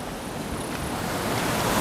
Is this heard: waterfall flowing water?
yes